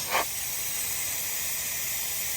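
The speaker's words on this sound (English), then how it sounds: "in order to air down, all I need to do is open up the valve" Air hisses steadily out through the valve of a tire deflation manifold, a continuous close rushing sound that opens with a brief sharper puff.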